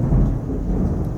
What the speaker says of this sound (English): It's raining in Vegas right now.